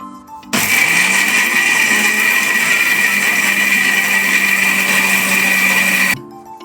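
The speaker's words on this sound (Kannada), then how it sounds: "ಈಗ ಮಿಕ್ಸಿ ಗ್ರ್ಯಾಂಡ್ ಆಗಿದೆ" A mixer grinder blending chutney roars loudly and steadily for about six seconds, starting abruptly and cutting off just as sharply, with a low hum before and after.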